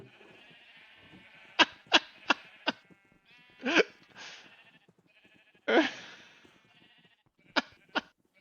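Minecraft sheep on a crowded sheep farm bleat repeatedly, several sharp close calls in irregular bursts, some short and clipped, others longer and wavering, over a quiet background with no talk.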